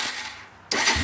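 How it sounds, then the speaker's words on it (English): A quad ATV with a straight pipe starts from cold on choke after two weeks unused, a short cranking whir, then the engine catching abruptly into a loud, close, rough idle. "This is a cold start."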